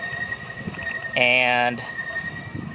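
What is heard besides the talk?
trains passing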